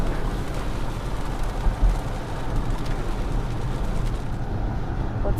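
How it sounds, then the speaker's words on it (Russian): Heavy rain pours down steadily at dawn under cloud cover, a dense, unbroken hiss of falling water that stays loud and close throughout, with no voices. "Ух, льет."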